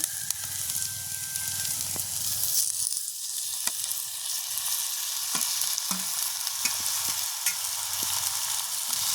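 Onions and green chilies fry in a pan over a village cooking fire, giving a steady close sizzle and hiss broken by occasional scrapes and clicks of stirring, with no talking.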